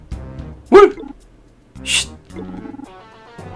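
A dog barking in the video game Legend of Heroes V, with two loud close barks spaced about a second apart, set between game music and character voice sounds.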